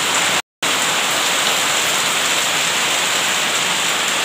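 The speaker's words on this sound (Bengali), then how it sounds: "দেখো কি বৃষ্টি হচ্ছে চারিদিকে" Heavy rain pours down all around outdoors, a dense, steady roar that stays loud and unbroken apart from one very brief dropout near the start.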